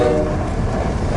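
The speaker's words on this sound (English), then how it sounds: "This is a northbound crude train here in Oakland, Nebraska." A northbound crude oil freight train rolls past in Oakland, Nebraska, a loud, steady rumble of wheels and cars filling the moment up close.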